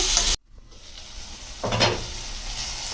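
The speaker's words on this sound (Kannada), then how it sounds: "ಇವಾಗ ಮಿಕ್ಸ್ ಮಾಡಿ ಸ್ವಲ್ಪ ಹೊತ್ತು ಕಡಿಮೆ ಗ್ಯಾಸ್ದಲ್ಲಿ ಇಟ್ಬಿಡೋಣ" Potatoes fry with fenugreek leaves in a pan on low gas for aloo methi bhaji, opening with a short burst of loud sizzle that drops away, then a quieter stir and scrape under a soft, steady fry.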